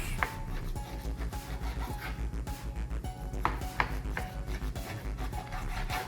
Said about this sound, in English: We're cutting it all in cubes.